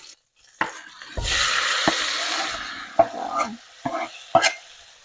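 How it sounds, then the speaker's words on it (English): Tomato and onion sautéing in a pot after seared chicken, a loud sizzle with spoon stirring and scraping, several knocks against the pot rim, close up. "We're going to saute this for about 10 to 12 minutes or until everything is well broken down."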